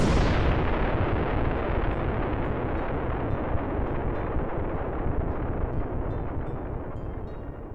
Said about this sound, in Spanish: se escuchó un fuerte estruendo